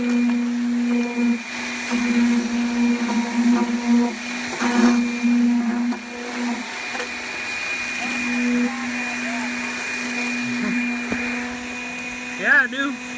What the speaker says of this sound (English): I gotta cut this tube off though.